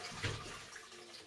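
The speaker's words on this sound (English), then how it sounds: "just slowly replace the water back in the aquarium" Fresh water slowly poured from an ordinary jug into a marine aquarium, a soft, quiet splash and trickle over about a second, with no voices.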